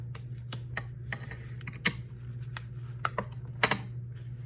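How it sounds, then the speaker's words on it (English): Scissors trim woven ribbon with a series of quick, crisp snips at an irregular pace, close up over a low steady hum, with no talking. "I'm gonna trim this a little bit"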